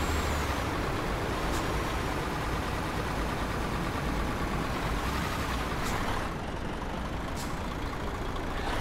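Heavy truck engine from Euro Truck Simulator 2 holds a steady, loud drone through the whole span, with a few brief hissy air-brake-like bursts over the continuous rumble and no talk.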